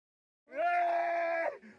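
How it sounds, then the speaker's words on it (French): A family member in Mélon, Mungo, wails in grief, one long sustained high cry lasting about a second before trailing off into a quieter sob, close and loud with no other voices. "Les hurlements traduisent à suffisance le désarroi de cette famille"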